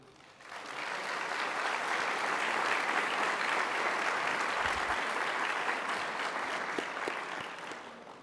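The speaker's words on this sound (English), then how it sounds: "honor with a round of applause the people that are here with you today or watching online" A large crowd at a university commencement ceremony applauds steadily for several seconds, a dense wash of clapping that swells in and slowly fades.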